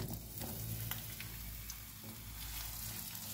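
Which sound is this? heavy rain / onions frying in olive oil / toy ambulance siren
onions frying in olive oil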